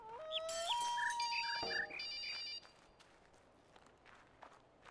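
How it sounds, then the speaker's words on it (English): Telephone ringing tones and chirping bird calls inside a speedrun video game, loud and prominent against quieter game sounds, with synthetic tonal rings and short chirps over the first few seconds, then fading to faint background. "the phone ringing and the bird chirping is much louder than everything else in the game"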